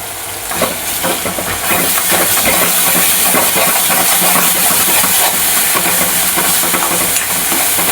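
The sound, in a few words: masala of coconut, ginger, garlic, coriander, sesame roasting in oil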